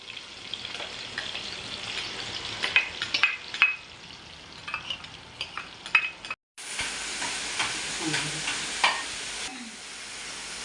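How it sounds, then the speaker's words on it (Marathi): Ground spice paste frying in a pan for a dried bombil fish curry with okra, a continuous crackling sizzle punctuated by spoon scrapes and clinks, briefly cut off midway before resuming. "आता आपण वाटण टाकून घेऊया"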